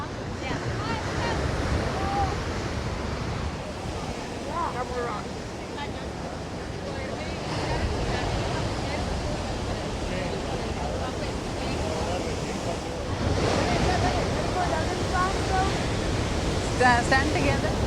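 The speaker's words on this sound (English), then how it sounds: "The waves here are mesmerizing, and on this hot day you do get a nice splatter of seawater." Ocean waves break against rocks along the Bondi coastal walk in Sydney, a continuous loud surf roar with swelling surges, mixed with wind buffeting the microphone.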